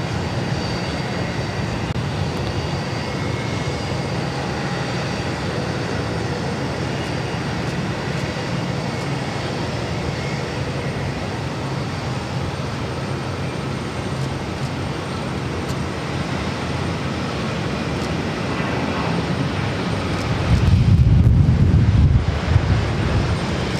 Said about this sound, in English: Runway 22 right, clear to takeoff. Clear to takeoff, JetBlue 1324.